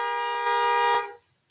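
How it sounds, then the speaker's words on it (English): A car horn honks outside, one long steady blare that holds for about a second before cutting off and fading, fairly loud and alone. "there's someone just honking their horn"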